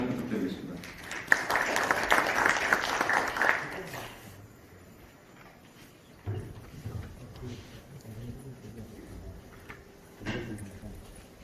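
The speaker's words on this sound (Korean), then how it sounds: "여러분 박수로 환영 부탁드리겠습니다" Audience applause welcoming a speaker at the first UAM industry development seminar in a university colloquium hall in Gumi, Korea: dense clapping for about four seconds, then fading into quiet room ambience with scattered soft sounds.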